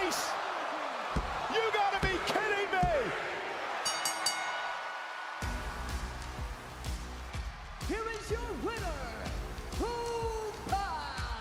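The 330-pound wrestler Otis is slammed to the mat with a fall from grace on WWE Raw. A heavy, booming thud cuts through arena noise, followed by a surging crowd and excited commentators talking over it.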